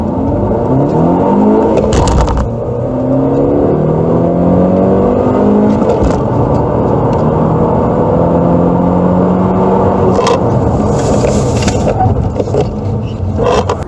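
A 2017 Honda Civic turbo drives and accelerates, its engine note climbing through repeated rising sweeps, loud and close throughout, with brief interior knocks.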